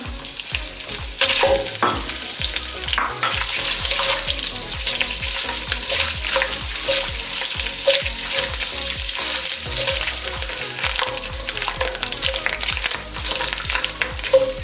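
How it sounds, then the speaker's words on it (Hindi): Steady, crackling sizzle of curry leaves and turmeric powder frying in hot oil, with occasional stirring scrapes, continuous and close. "अब इसमें करी पत्ता और हल्दी पाउडर डाल देंगे और 30 सेकंड के लिए इसे भी फ्राई कर लेंगे"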